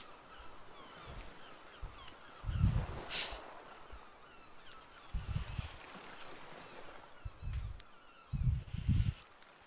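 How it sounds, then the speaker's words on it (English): Seagull calls at a beach, several loud bursts of cries spread across the stretch at irregular intervals over a steady background wash, with no talking. "We do hear the calls of seagulls."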